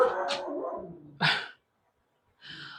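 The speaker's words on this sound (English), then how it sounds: "my dog's going crazy at the mailman" A dog barks loudly at a mailman indoors: a long growling, whining bark, then a sharp single bark, a short silence and a higher yelp, close to the recording and with no talking.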